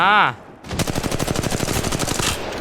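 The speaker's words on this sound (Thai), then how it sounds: "มีคนยิงผมมาเหรอ" Automatic gunfire in a video game shooter, a sustained rapid burst of shots after a brief tonal sound, loud and close.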